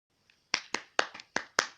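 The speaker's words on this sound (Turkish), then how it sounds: "Alkış" Six or seven sharp, separate hand claps sound close by in an irregular rhythm after a brief pause.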